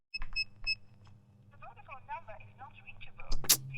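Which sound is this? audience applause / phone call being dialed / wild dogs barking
phone call being dialed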